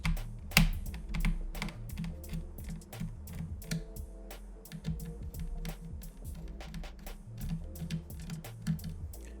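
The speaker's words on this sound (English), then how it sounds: "we're going to loosen the screws that are holding this hard drive in place" Small screws holding a hard drive inside an HP Pavilion 17-e121ca laptop are loosened, making irregular, close, light clicks and ticks with no talking.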